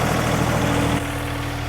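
A John Deere 3033R compact tractor engine idles steadily close by, a low continuous rumble with a slight drop in level partway through and no voices over it.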